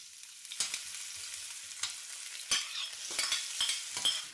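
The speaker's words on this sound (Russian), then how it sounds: "наливаю масло в сковороду и обжариваю овощи" Oil crackles and sizzles steadily in a pan as grated carrot and other vegetables fry for soup, with occasional scraping stir sounds and sharper pops throughout.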